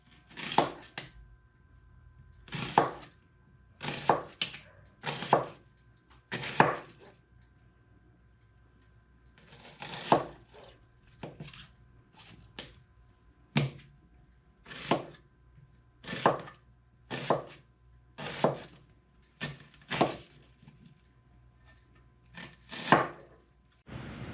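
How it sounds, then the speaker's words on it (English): Onions being halved and sliced on a cutting board, heard as a series of distinct knife chops in loose irregular bursts, close and crisp against a quiet background. "we'll start cutting the onions for the bed. So on the onions, we don't want super small pieces. We kind of want them just cut in half and then sliced."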